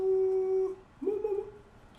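A dog gives a clear, steady high whine, then after a short pause a wavering, warbling whimper, close by and fairly quiet, with no talk over it.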